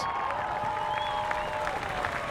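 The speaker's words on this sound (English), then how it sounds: "And a big round of applause from the crowd here." A crowd applauds at Indianapolis 500 qualifying as a driver climbs out after a wreck, a steady, distant wash of clapping with a faint tonal whine above it throughout.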